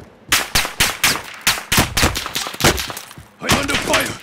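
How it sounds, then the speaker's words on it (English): Rapid bursts of automatic gunfire from Call of Duty: Modern Warfare, aimed at the player, crackle in dense repeated volleys for the whole stretch, loud and close, with a short pause before a final heavy burst. "I getting shot at."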